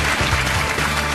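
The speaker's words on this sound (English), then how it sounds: "Give him a round of applause." Brief, steady applause from a TV talk show studio audience, a dense wash of clapping that fills the whole short moment.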